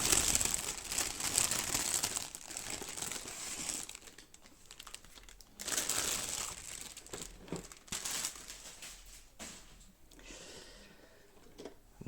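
Packaging crinkles and rustles near and loud while an Altaya Star Wars ship model is unboxed, in bursts separated by quieter handling pauses, with no talk.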